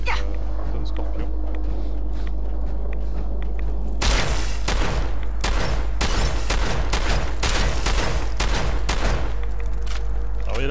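Rapid gunfire rings out in Fallout 4 as a scorpion is shot in survival mode at the Glowing Sea: dense, loud bursts of shots, one after another, beginning partway in over steady game ambience.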